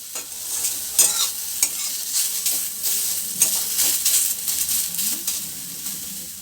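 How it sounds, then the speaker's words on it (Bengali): Chopped onions frying in a little oil, a continuous close sizzle with frequent spatula stirs and scrapes across the pan, no talk. "যে পেঁয়াজগুলো আমি কেটে রেখেছিলাম সেইগুলো ভালো করে ভেজে নেব।"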